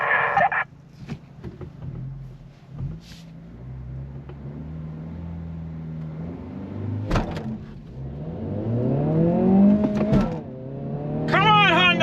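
A 2022 Honda Civic Si and a VW Jetta GLI launch from a standstill in a drag race, engines rising in pitch through the gears from inside one car, with occasional voices over the roar.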